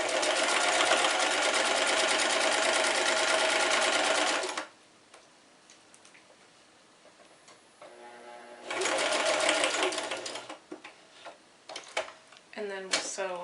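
A sewing machine stitches a fabric face mask in two loud, close bursts of rapid clattering separated by a quiet pause, followed by a few clicks and handling sounds.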